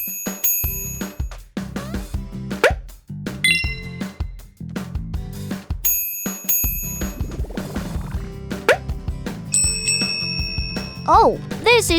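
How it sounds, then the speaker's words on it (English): A bell in a children's police cartoon chimes with bright, ringing tones over continuous background music, with a few brighter rings near the end. "Oh, this is just a bell."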